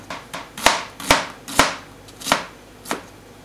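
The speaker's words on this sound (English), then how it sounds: "So we're going to chop a large onion just like that." A knife chopping a large onion on a board, five or six loud, sharp, evenly spaced strokes close up with quiet gaps between, no talking.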